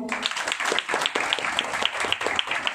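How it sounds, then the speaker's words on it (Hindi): Rhythmic hand clapping in a steady beat, several people clapping together at a moderate distance, with voices faintly mixed in. "ताली बजाए।"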